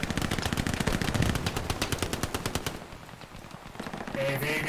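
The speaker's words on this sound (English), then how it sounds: "I am hearing a shotgun that's very close by." Rapid bursts of close gunfire in the video game Hell Let Loose, a loud, evenly spaced string of shots for about three seconds, then fainter scattered shots and a distant rumble.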